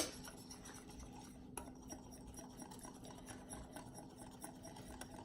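A whisk stirs peanut butter sauce thinned with a little water, giving a steady, soft scraping and swishing against the bowl, faint and continuous with no talking.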